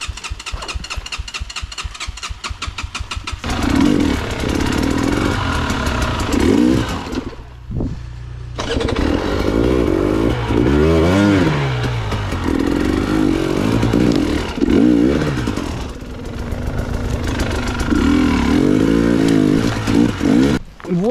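A Minsk X250 motorcycle engine, overheated, is kicked over with rapid clatter, then catches and idles with a rough popping beat, revving up and down repeatedly at close range for a long stretch.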